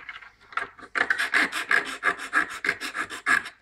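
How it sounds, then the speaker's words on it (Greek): A hand file rasps over the roughly cut rough edges of a small homemade piece, about a dozen steady back-and-forth strokes in an even rhythm, close and clear with no talking. "Αυτό που θα κάνουμε τώρα είναι είτε με μία λίμα,"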